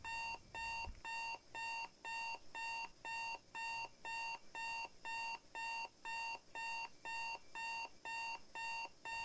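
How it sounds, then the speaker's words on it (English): An alarm clock in a point-and-click 80s thriller game rings in a steady electronic beeping pattern, about fifteen evenly spaced bursts, clear and alone with no talk. "Get the alarm clock."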